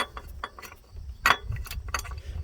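A ratchet clicks in short bursts as bolts come off the alternator bracket of a 1999-2004 Jeep Grand Cherokee 4.0, with close metallic ticks and a brief louder clank midway.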